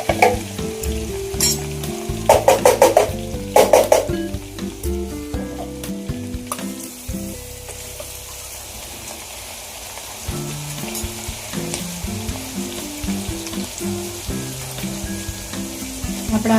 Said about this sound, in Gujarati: આપણા આદુ મરચાં લસણની પેસ્ટ સતળાઈ જાય